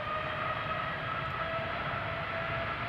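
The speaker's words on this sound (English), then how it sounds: "Meanwhile the TUI Dreamliner already spooling up." TUI Boeing 787 Dreamliner jet engines spooling up at Amsterdam Schiphol Airport, a steady broad roar with a sustained tonal whine, continuous and fairly distant, with no talk.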